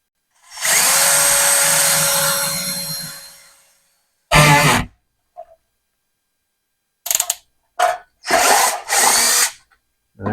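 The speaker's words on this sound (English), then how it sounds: "I'm using a 5/16 inch drill bit," A drill with a 5/16 inch bit bores a hole in plastic for motorcycle grip accessories, whirring up close for a few seconds and winding down, followed by several short, sharp bursts of drilling and clicks.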